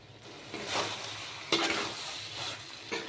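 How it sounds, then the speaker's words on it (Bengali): Ridge gourd and potato curry fries in a pan while a utensil stirs it. Scraping strokes come at intervals over a soft, continuous sizzle, up close with no voices. "এই জলটাকে আমি পুরা শুকিয়ে নেব পুরা ভাজা ভাজা করে নেব"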